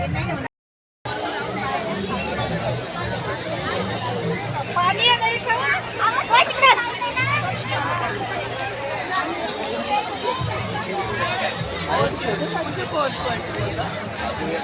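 A dense crowd murmurs and chatters at a busy outdoor memorial gathering lined with food stalls, with footsteps and scattered voices around. Someone talks over the hubbub throughout.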